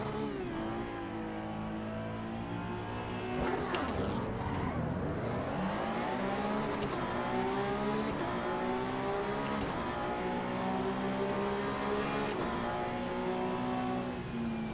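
Race cars in the sim racing game Assetto Corsa EVO drive past, their engines revving and shifting up and down in pitch, with a loud pass near the middle and a continuous engine drone throughout.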